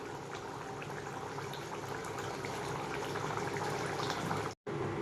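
A pot of Bengali fish curry bubbling steadily on the stove, a continuous close, moderately loud simmer and boil with a brief drop near the end.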